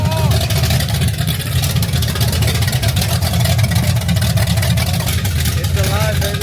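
A 1974 Corvette engine with straight headers runs loud and close, a rough, throbbing low rumble held steady throughout, with excited voices talking over it.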